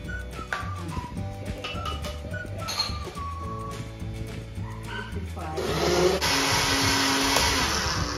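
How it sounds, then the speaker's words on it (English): A blender whirs into a loud, steady drone partway through as it blends a watermelon smoothie, following a stretch of tonal background sound and voices at home. "Let's blend."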